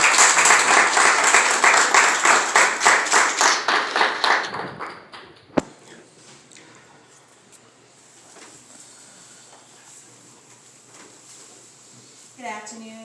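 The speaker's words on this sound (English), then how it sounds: "Let's give them a hand clap." Rhythmic hand clapping from the audience at a clergy council holiday brunch, loud and steady for about four seconds, then fading into room murmur.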